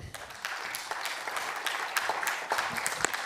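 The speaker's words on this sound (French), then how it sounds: "On peut vous applaudir aussi." Modest applause from a conference audience for speakers, with scattered individual claps that are fairly quiet and thin and build slightly toward the end.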